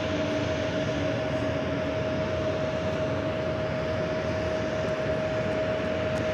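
Airliner taking off from runway 19 at LAX, heard from a distance: a steady broadband engine roar with a sustained tonal whine, moderately loud and unbroken, with no talk.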